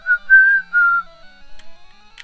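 A tuneful whistle from Pokemon Yellow, three short rising-and-falling notes followed by a softer trailing tone and a faint blip, heard alone and clear.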